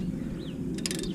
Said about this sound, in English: And I take a ratchet, I don't know what's it called, ratchet